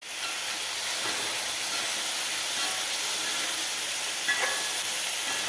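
Chili, mango and garlic sautéing in hot oil with salt, giving a steady close-up hiss that runs unbroken throughout, with a faint clink of the spoon near the end.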